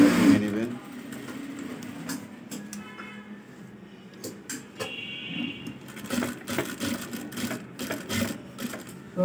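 A sewing machine stitches the side seam of a shirt in short ticking, whirring bursts, close and moderately loud, as someone talks over it throughout.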